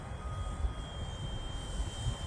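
A Dynam Pitts Python RC model plane makes a low pass, its motor producing a steady, droning whine with a faint constant tone, moderately loud and unbroken throughout.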